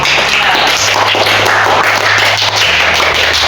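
Students in a classroom applaud after group discussion presentations, a loud, dense, continuous clatter of clapping over a low steady hum.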